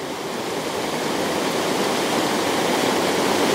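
A glacier-fed meltwater river rushes past up close, a continuous, loud and broad roar of flowing water with no break.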